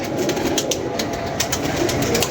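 Pigeons, many of them down on the ground, coo and rustle close by in a steady low murmur, with scattered brief sharper sounds over the flock.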